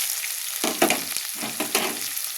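Cumin seeds and bay leaves sizzle steadily in hot oil, a close, dense frying hiss with a few louder crackling bursts throughout.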